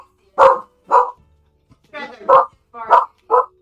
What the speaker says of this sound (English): She'll know if you're a new person, so she'll just bark at you.